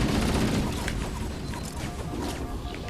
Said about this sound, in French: T'as lancé une grenade?